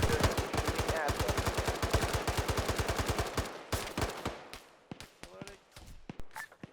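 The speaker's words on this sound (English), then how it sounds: "We're just shooting at them." Rapid automatic gunfire in the military simulation game Arma 3 during a cave assault, a long fast burst of shots followed by scattered single and short bursts, loud and close, with voices talking over it.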